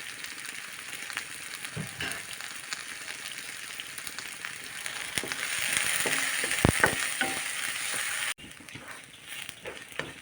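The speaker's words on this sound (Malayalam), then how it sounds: "നന്നായിട്ട് വഴറ്റണം" Ginger sizzles and fries steadily in a hot pan for coconut chutney, a dense continuous crackle with occasional spoon scrapes, growing louder before dropping suddenly near the end.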